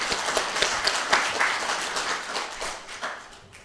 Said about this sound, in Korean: 하나님 앞에 감사와 영광의 박수 올려드리겠습니다.